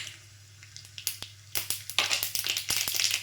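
Mustard seeds splutter and pop in hot oil for a curd rice tempering, with sharp crackling bursts that begin sparse and grow into dense, close sizzling pops, with no talking.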